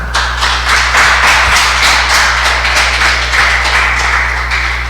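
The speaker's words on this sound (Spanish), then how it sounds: "Dele un aplauso al Señor" A church congregation claps steadily for about five seconds, a dense, even wash of applause over a low hum.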